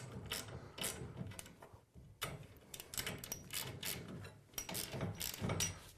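A 7/16 ratchet wrench tightening the set screws on a garage door torsion spring gives off quick bursts of sharp clicking, repeated in a steady back-and-forth rhythm, close and fairly clear with no talking.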